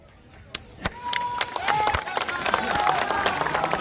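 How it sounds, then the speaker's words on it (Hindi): A crowd at a political speech in Jharkhand claps in scattered, building bursts that thicken into sustained applause, heard from within the audience with some voices mixed in. "आप लोग समझे, तालियां बजा दी"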